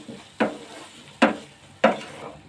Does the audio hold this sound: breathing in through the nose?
no